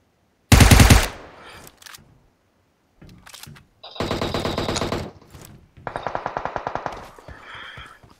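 Automatic gunfire in the PUBG Mobile video game: a loud opening burst, then several shorter bursts of rapid shots, alone without talk.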